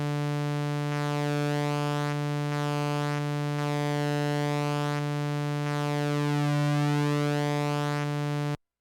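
A Moog Sub Phatty synthesizer holds a steady low note while switching between saw and square waves, a sustained buzzy tone with slow sweeping filter shifts and slight sudden changes at each switch, loud and alone until it cuts off.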